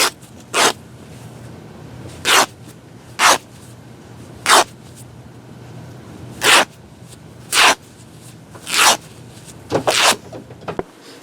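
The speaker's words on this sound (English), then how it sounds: "I ripped off the selvage that had the printed on it" Fabric is torn along its printed selvage edge in a series of short, sharp ripping bursts, about nine in all, spaced unevenly and heard close up over quiet room noise.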